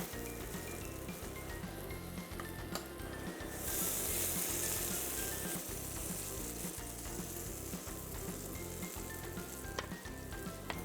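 Batter sizzles and fries steadily on a hot pan, a continuous crackling hiss held at moderate loudness for around eleven seconds, with a brief brighter surge of sizzle partway through and no voices.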